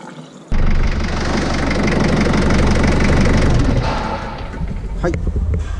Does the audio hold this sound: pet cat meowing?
no